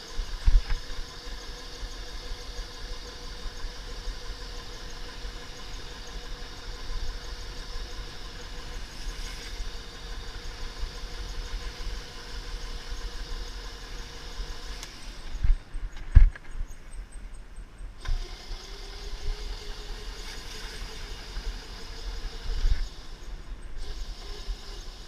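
A Razor MX500 electric dirt bike rides off-road with a steady electric motor whine and rumbling vibration, plus a few bumps and knocks along the way; no one speaks.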